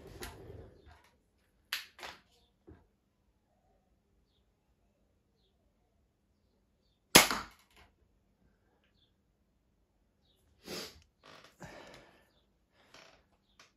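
Shots from an FMA airsoft sniper rifle in a supersonic rev build firing a 283 grain bolt, heard as sharp, isolated reports at irregular intervals with quiet gaps, one standing out louder and closer than the rest.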